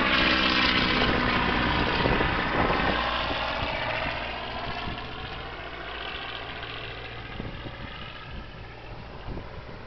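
A slow-flying propeller airplane with a slotted wing drones overhead, its steady engine and propeller tone loud at first and gradually fading as it moves away.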